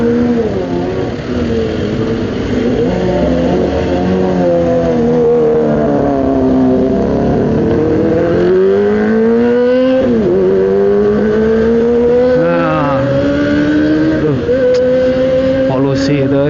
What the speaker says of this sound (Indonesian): polusi suara ya motor, aduh.